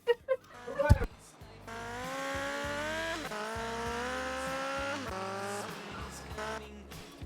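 Motorcycle racing in GTA Vice City Stories on PS2: a few sharp knocks, then a steady whining engine that rises and falls as it shifts through gears, at moderate level with a voice present.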